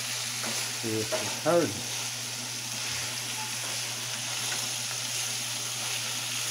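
Plain ground beef frying on a grill sizzles steadily and closely, with a few brief stirring scrapes early on and a man's short remark over it.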